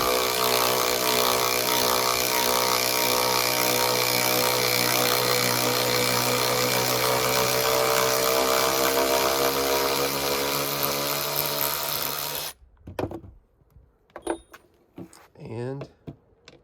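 A Ridgid JobMax cordless ratchet runs with a loud, steady motor whine for about twelve seconds, then cuts off abruptly, followed by a few clicks and a voice talking.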